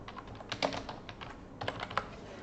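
Keys on a computer keyboard clatter in quick, irregular bursts as text is typed, close and fairly crisp, with a short lull midway before another flurry of keystrokes.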